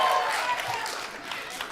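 A live audience gives a brief burst of scattered applause, moderately loud and fading slightly over under two seconds.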